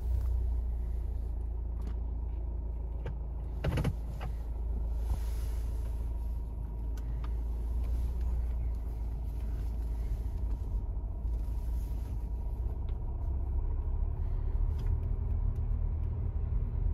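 A Volvo car driving on the road, heard from inside as a steady low road and engine rumble that runs throughout, with a brief sharper knock early on.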